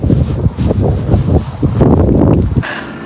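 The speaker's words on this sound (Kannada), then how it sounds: "ಈಗ ಸಡನ್ನಾಗಿ ಕೋಲ್ಡ್ ಗಾಳಿ ಸ್ಟಾರ್ಟ್ ಆಯ್ತು" Sudden cold wind blows outdoors on an early morning near a train stop, buffeting the microphone in loud, uneven rumbling gusts for a few seconds.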